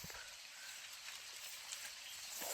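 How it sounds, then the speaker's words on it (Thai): Heavy rain pours steadily over a durian orchard, a dense broadband hiss holding even throughout with no voices. "ตอนนี้ฝนหนักขึ้นนะครับ"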